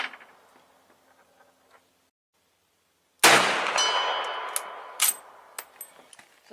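Rifle firing heavy 200-grain subsonic projectiles at close steel targets: faint ticks, then a loud sharp shot with a ringing metallic clang that decays, followed by several more fainter pings and knocks.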